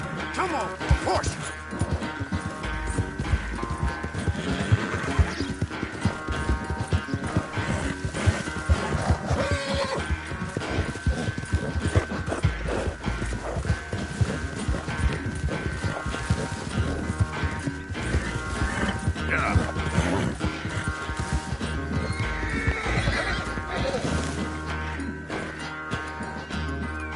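A horse in a PS4 game gallops with rapid, continuous hoofbeats and neighs loudly, over a busy game soundtrack with occasional crashes and talking.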